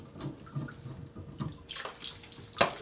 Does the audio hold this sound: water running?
yes